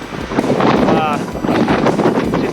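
Strong wind gusts roar loudly across a microphone on a mountain trail along the Pacific Crest Trail, a steady, buffeting rush filling the whole stretch while a person talks through it.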